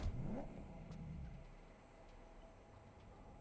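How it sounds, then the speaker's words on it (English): A car engine in the video game Cyberpunk 2077 revs up sharply for a moment, then settles into a low, steady rumble with faint mechanical whirring. "Vehicle revved its engine by itself."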